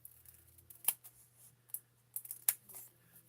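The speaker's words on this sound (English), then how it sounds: "So let's just cut a strip." Scissors snip through a paper strip during a craft demonstration, with a few quiet, brief cuts at an irregular pace over a low steady hum.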